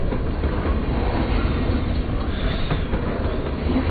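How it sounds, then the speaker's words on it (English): A train rumbles past in the video game Life Is Strange, a loud, continuous, close roar of rolling wheels that fills the whole stretch. "That train again."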